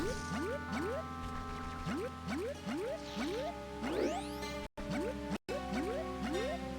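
In Majora's Mask, a Deku skips across poisonous swamp water in a rapid run of upward-sliding boing-like splashes over steady game music, with two brief cutouts and no talk.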